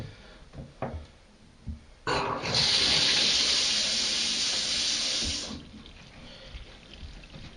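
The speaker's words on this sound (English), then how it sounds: "I've turned the water onto that one now" Water gushes from a newly fitted tap into a sink, starting abruptly as a loud, hissing rush that holds steady for about three seconds and then cuts off, with faint handling knocks before and after.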